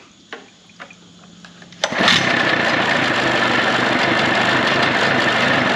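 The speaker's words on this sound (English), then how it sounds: "The engine fires right back up." A few faint clicks, then a Mercury outboard engine catches with a burst after a kill switch test and settles into a steady, loud idle.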